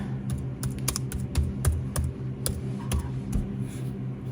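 Keys clack quickly and irregularly on a computer keyboard, a close, crisp burst of typing with short pauses and no voices.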